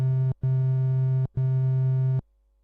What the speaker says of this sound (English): if we listen to the triangle wave, there are only a few odd harmonics in there